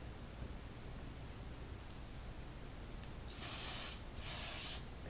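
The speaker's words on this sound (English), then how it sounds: "I grab my hairspray." Hairspray is sprayed on hair for rag curls in two short, bright hissing bursts, both faint against a steady background hiss.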